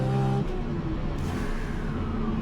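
A 1239 bhp Toyota Supra accelerates hard through the gears with a loud, continuous engine roar. The pitch climbs and shifts near the start, then a brief whoosh follows.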